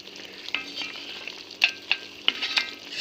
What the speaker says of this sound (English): I'm going to stir this.